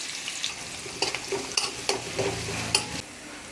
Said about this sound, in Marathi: एक मोठ्या आकाराचा कांदा बारीक चॉप केलेला फ्राय करून घ्यायचा आहे